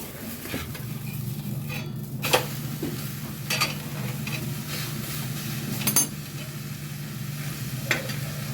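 Gram flour pudla sizzling steadily in a hot pan, with a few sharp clinks and scrapes of a spatula against the pan as the pancake is flipped, no talking.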